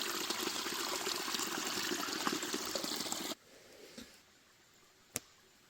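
Water gushes steadily into a Mylar bag for about three seconds outdoors in the wild, then stops, followed by a faint rustle and a sharp crinkle of the bag.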